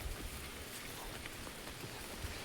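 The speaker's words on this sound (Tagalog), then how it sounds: "Umuulan ngayon, umuulan na yan." Rain falls steadily on a slippery hillside path, a faint, even patter of drops with soft low thumps and no one speaking.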